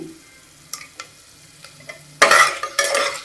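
Bay leaf and whole spices dropped into hot oil for palak rice: a few soft clicks, then a sudden loud burst of sizzling and crackling that fades and then flares again, close by.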